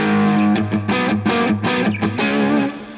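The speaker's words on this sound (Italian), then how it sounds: "Senza il booster il canale 1, quindi di questo ampli, ci dà questo tipo di distorsione." Electric guitar played through channel 1 of an amp with its distortion and no booster, producing a run of bright, saturated, sustained notes and chords in quick succession, loud and close.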